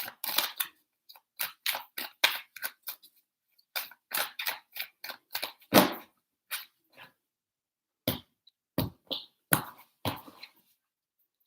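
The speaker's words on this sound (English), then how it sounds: "Three shuffles for Libra." Crisp, irregular slaps and flicks of tarot cards being shuffled, several bursts with short pauses, close and dry with no talking.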